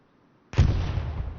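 A single heavy artillery shell lands in a competitive World War II-style multiplayer match, a sudden loud boom followed by a rumbling decay, alone without talk.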